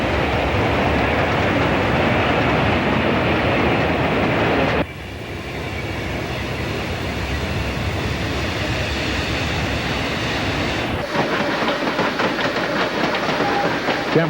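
A three-car Tweetsie train of the ET&WNC railroad rolls down State Line Hill, a steady rumbling clatter that drops to a softer run midway and picks up clicking rail noise again toward the end.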